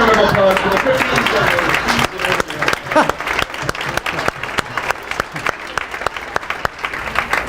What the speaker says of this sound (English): So, one round of applause for the cookies.